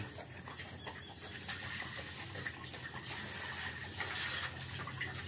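Water poured or running steadily while a pig is given a drink, a continuous faint splashing gush lasting several seconds, with a bird chirping faintly in the background.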